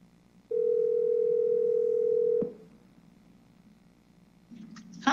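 A call placed from the phone app on an Apple Watch Series 3 with cellular: a single steady ringing tone holds for about two seconds, then stops, leaving quiet room noise and a faint click at the end.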